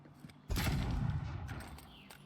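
An explosion in the video game Avowed, a sudden loud boom that hits partway in and then rumbles away over about a second and a half.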